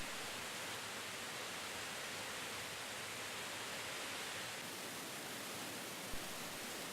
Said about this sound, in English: experience the power, sound, and motion of water crashing around them